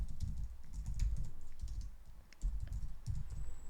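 A project key being typed on a computer keyboard: quick, close, irregular key clicks in short bursts with a brief pause midway, no voices.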